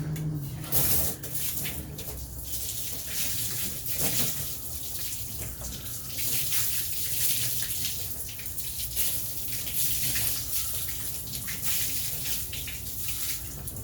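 Water from a hose sprays and splashes across a waxed test panel to rinse it off, a steady hissing, gushing wash heard near and alone.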